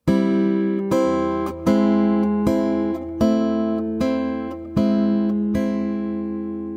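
A fingerstyle acoustic guitar plays the piano part of a song intro, ringing chords and plucked notes struck at a steady pace, each decaying slowly, close and solo without talking.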